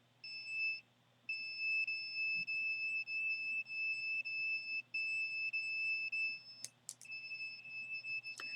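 An electronic alarm beeping steadily with the power turned up, a high continuous tone broken by short gaps, faint but clear, ending with a few sharp clicks.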